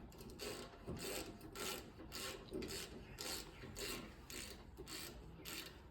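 A torque wrench ratchets in steady, even strokes while tightening rear brake bolts on a 2000 Chevy Tahoe LS, a quiet, close series of rhythmic clicking pulls.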